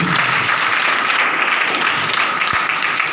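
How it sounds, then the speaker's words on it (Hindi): Loud, dense audience applause fills the whole stretch at a live testimonial event in Rudhauli, Basti, a steady wash of many hands clapping with no speech over it. "एक बार जोरदार ताली आप देनी होगी"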